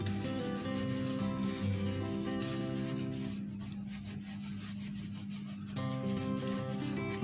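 A hand rubs over muddy letters in a phonics activity, making a continuous scratchy rubbing over a steady background hum, briefly softer midway before resuming.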